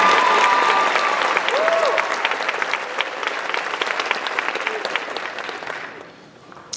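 An audience at a spring convocation ceremony applauds two faculty inductees, a dense, steady wave of clapping that fills the room and then tapers off toward the end.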